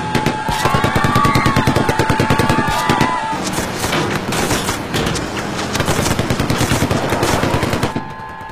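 Dense bursts of gunfire from guns in an action war movie rattle loud and near for the full stretch, rapid machine-gun volleys piling over one another with a brief shouted command and voices caught in the din.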